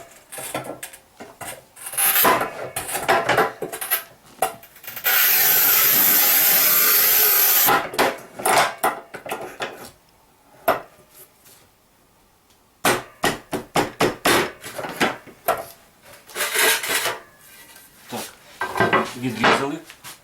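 Manual tile cutters, a Sigma and a Rubi, cut a 90 cm tile in a side-by-side comparison: bursts of scraping, clicking and scoring, then a sustained loud grinding scratch of the wheel across the tile, followed by more clattering and knocks.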